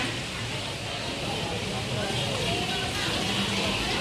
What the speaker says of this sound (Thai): ฝนตกหนักแล้วเพื่อน ๆ